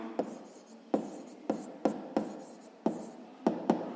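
Chalk or marker taps and strokes on a board during a sixth-grade math lesson, about eight short, irregular scratches and knocks, close and fairly quiet, with no speech.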